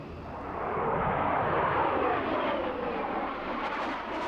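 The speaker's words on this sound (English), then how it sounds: "So there it is, the Mirage 2000 from Escadron de Chasse 2-5" A single-seat Dassault Mirage 2000C air-defence fighter from Escadron de Chasse 2-5 at the RIAT 2003 air show roars past, its loud broad jet noise swelling and holding steady, alone without speech.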